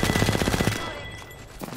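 Rapid automatic gunfire from an Apex Legends match, a dense burst of loud shots for most of a second before fading into softer game noise with a brief final pop.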